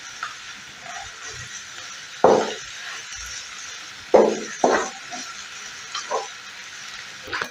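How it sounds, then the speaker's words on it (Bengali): Eggs frying in a small amount of ghee in a pan. A steady sizzle runs throughout, with louder stirring and clinking scrapes at intervals. "ডিমগুলোকে আমি ভেজে নিচ্ছি ঘি দিয়ে, অল্প পরিমাণ ঘি দিয়ে জাস্ট একটু ভেজে নেব।"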